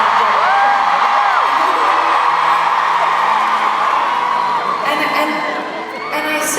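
A large concert crowd in Amsterdam roars continuously with cheers, whoops and high-pitched screams, loud and unbroken throughout, with surges of shouting near the end.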